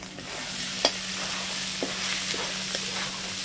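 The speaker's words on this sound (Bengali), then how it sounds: "এইবার এটাকে ভালো করে কষাবো" Spices with Kashmiri chili powder are sautéed in a pan for a chicken curry, a constant steady sizzle with a couple of light utensil taps over it.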